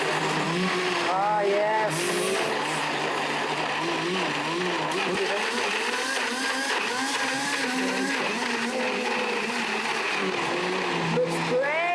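Kitchen blender pulsing frozen bananas into plant-based soft-serve ice cream, a steady loud whir that runs nearly unbroken, with a voice speaking briefly over it.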